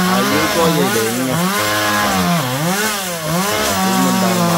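Close and loud, a chainsaw saws through a big coconut or jackfruit tree, its engine revving up and down in repeated surges as it bogs into the cut.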